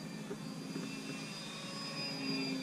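A foam board and 3D-printed Sopwith Camel RC model plane taxis on the ground, its motor giving a faint, steady high-pitched whine with a low hum underneath, heard from a short distance.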